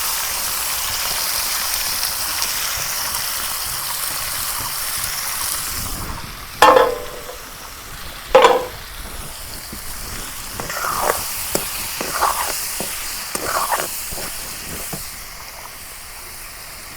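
Fish, chopped onion and green chilli frying together in a wok, a constant sizzling hiss broken by two sharp metallic knocks and later softer stirring scrapes, close up with no talk.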